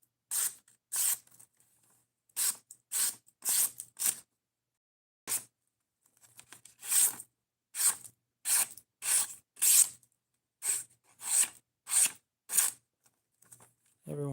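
A knife blade is drawn repeatedly across a sharpener, giving about a dozen and a half short, bright rasping strokes in an uneven rhythm, close and fairly loud, with brief silences between them.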